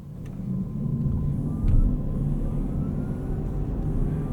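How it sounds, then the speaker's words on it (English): A 2024 Porsche Cayenne E-Hybrid with an 8-speed transmission cruises in electric mode, giving a steady low cabin rumble of road noise with a faint rising electric whine above it and no voices. "You do feel some gear changes from this 8-speed transmission, and a little bit of electric motor noise."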